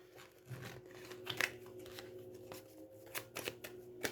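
Tarot cards are shuffled for a reading, with quiet close riffles and soft slaps of the deck repeating irregularly and no voices.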